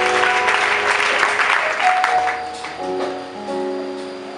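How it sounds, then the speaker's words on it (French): A church congregation at a Sunday convention service in Abidjan applauds to cheer the Lord, steady loud clapping over sustained organ or keyboard chords with some voices. "Acclamez le Seigneur."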